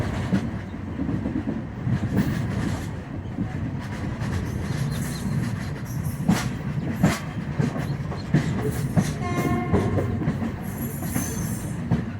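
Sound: train running on rails

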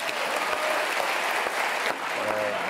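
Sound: audience applause for comedian

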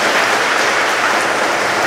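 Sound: big round of applause

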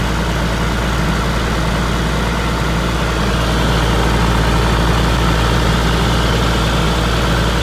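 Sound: John Deere 6068 diesel engine running after overhaul

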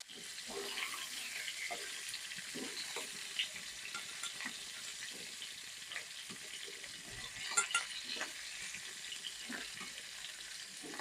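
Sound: fried potato and cauliflower added to a hot pan

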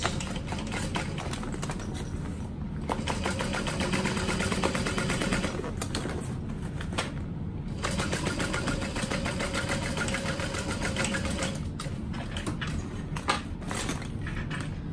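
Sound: sewing machine sewing a second line of stitching

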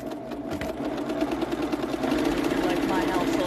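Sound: serger sewing machine stitching

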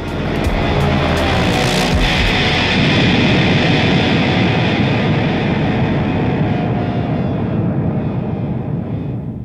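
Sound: airplane nosediving and crashing, Pink Floyd sound effect

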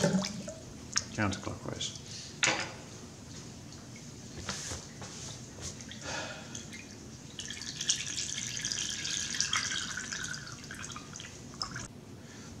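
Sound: water draining from a basin with pepper flakes

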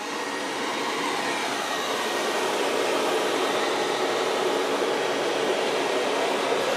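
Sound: Bagotte BL509 robot vacuum and mop running

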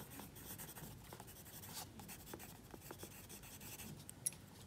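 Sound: pen writing on paper while drawing a diagram

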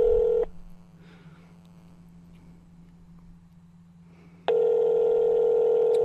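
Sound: telephone dialing tones calling a GameStop store

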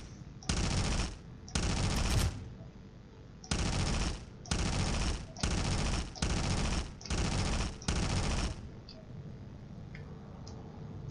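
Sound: gunfire in video game Space Engineers

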